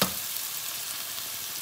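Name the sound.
eggs cracked into pan frying for shrimp fried rice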